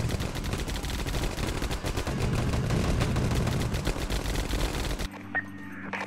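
Dense automatic gunfire from the 9th Company: Roots of Terror video game rattles in steady, rapid bursts for about five seconds, loud and close, then cuts to a quieter stretch at the end.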